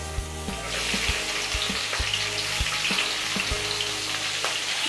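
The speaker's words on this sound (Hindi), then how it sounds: "उसके अंदर हम अपना ये प्याज डाल देंगे।" Onion frying in leftover oil in a pan, a dense hissing sizzle that swells and then holds steady while low knocks sound at irregular intervals underneath, close and without any voices.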